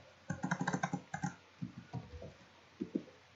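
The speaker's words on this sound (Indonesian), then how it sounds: "kemudian di sini kita ketik break" Typing on a computer keyboard, a quiet close-up burst of quick key taps in uneven clusters with brief pauses, no voices.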